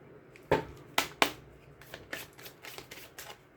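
A deck of Petit Lenormand fortune-telling cards being shuffled close up in a quiet room: a few sharp riffling slaps followed by softer, quicker card flicks that trail off.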